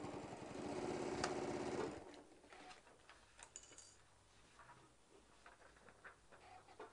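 A sewing machine stitches a bag in a steady, fast mechanical run for about two seconds, then stops, leaving faint handling noises.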